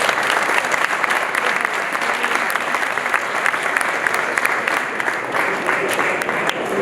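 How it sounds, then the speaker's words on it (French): An audience at an installers' awards ceremony claps steadily, a dense, loud, continuous applause that does not let up. "on peut les applaudir quand même"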